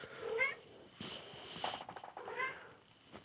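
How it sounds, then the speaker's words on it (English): A house cat meows twice, clear and fairly close, with a short burst of rustling between the calls, in an otherwise quiet room. "Oh, sorry about that mewing."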